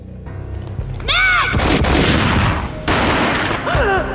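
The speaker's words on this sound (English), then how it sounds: "A gunshot boomed and she fell down in slow motion." Gunfire in the PC game Max Payne: a booming gunshot with sharp bursts and ringing echoes, mixed with game sound effects and slow-motion audio, loud and close.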